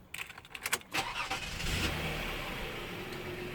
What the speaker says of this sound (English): Next, we're going to start the car.